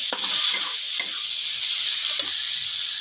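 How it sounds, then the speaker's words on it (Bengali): Ginger, garlic and onion fry in a pan with a steady, loud sizzle while a spoon stirs them in occasional scraping strokes; no voices. "আদা রসুনটা পেঁয়াজের সঙ্গে এক মিনিট মতো ভালো করে নাড়িয়ে নিতে হবে"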